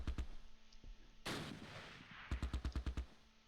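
Gunfire from the World War II strategy game Close Combat Last Stand Arnhem at the Arnhem rail bridge: a few scattered shots, a heavy blast with rumbling decay, then a rapid burst of about eight evenly spaced automatic rounds.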